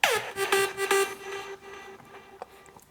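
Technicolor synth layer pitched one octave lower in G5 for a big room EDM track, a bright sustained tone with a few rhythmic stabs that decays and thins out after the first second and a half.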